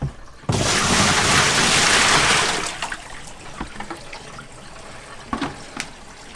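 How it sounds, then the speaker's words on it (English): Water gushes loudly from a water heater's drain hose into a sink, a strong steady rush that fades after a couple of seconds into a quieter trickle with small splashes and clinks. "I'll just go ahead and put the hose right here. Let it drain."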